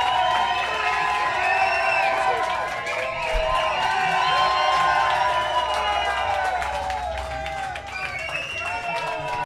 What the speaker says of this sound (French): Et la foule est en délire!